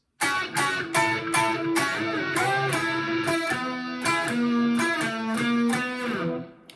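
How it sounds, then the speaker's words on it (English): A distorted electric guitar plays a short lead phrase of picked notes, bright and driving, with a steady rhythmic attack throughout. "there's a little lead part that sounds like this"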